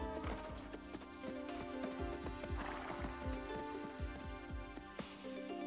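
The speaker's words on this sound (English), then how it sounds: "When a horse trots, its four legs move in a given order." Trotting horse with steady, rapid clip-clopping hoofbeats in an even rhythm, a whinny mixed in, all moderately loud against a busy background.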